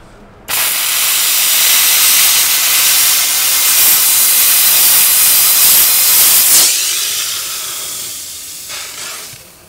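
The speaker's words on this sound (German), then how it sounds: "Mach mal Hochdruck." A high-pressure washer jet blasts a camper van's wheel rim, a loud, close, steady hissing spray that starts abruptly and runs almost without a break before easing off near the end.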